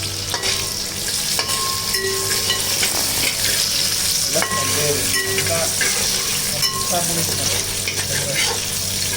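Green chillies fry in hot oil for a green apple pickle, a loud continuous sizzle close by with stirring scrapes and some running tap water mixed in.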